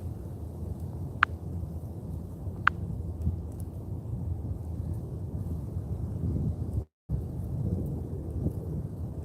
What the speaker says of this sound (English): And yes, it is raining, and it's not supposed to.